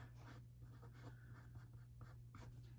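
Pen strokes on paper during a math lesson on composing functions, a soft continuous scratching with brief bursts of strokes over a steady low hum, close and quiet with no talk.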